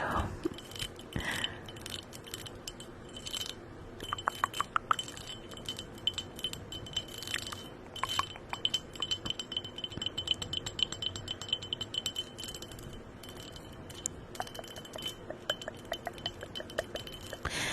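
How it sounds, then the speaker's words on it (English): Repeated light fingertip or nail taps on a glass fishbowl, crisp clinking strikes scattered irregularly throughout, close and fairly quiet with no talking. "And then we can just tap at the glass too."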